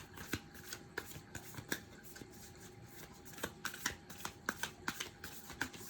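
Tarot cards are shuffled and drawn in a quiet room, giving soft rhythmic riffling flicks and snaps repeating steadily, close but faint, with no talk.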